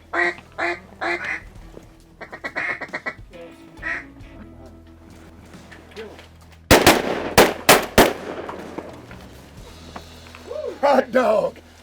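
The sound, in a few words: shotgun gunshots while duck hunting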